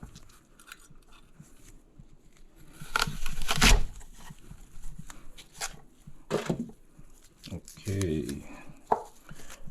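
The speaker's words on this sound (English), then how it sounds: "Core comes out, and we're left with the slices." A handheld corer slicer is pushed through fresh fruit, making several sharp crunching cuts with quieter clicks and handling noises between them, close by and with no talking.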